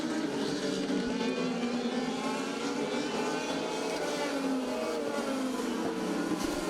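Race cars circle a track during a heat race, engines droning steadily and loud with wavering pitch as they pass, a continuous roar with no talk over it.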